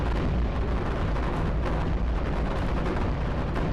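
Dense, continuous gunfire and cannon blasts from the World War II tower-defense game iBomber Defense, Germany level, a steady loud barrage of overlapping bursts with no pauses and no talk.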